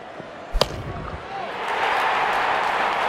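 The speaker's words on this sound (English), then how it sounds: "made a cracking sound of the bat." A single sharp crack as a cricket bat strikes the ball for a six in a video game, followed by a rising wash of crowd noise, fairly close and brief.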